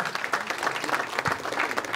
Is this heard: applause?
yes